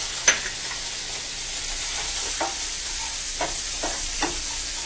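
Capers sizzling in a pan with pitted olives for Mediterranean salmon, a soft continuous sizzle with repeated utensil scrapes and taps as the pan is stirred, one sharper clink near the start.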